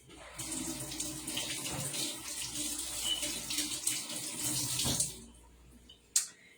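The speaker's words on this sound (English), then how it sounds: "Let me just wash my hands." Hands are washed under a running kitchen tap, a steady splashing stream for about five seconds before the water cuts off, followed by a single clunk.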